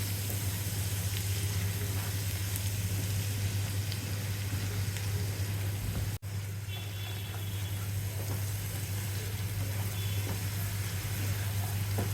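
Onion paste and sugar frying in oil for rohu fish kalia, a soft continuous sizzle over a steady low hum, with one sharp click midway.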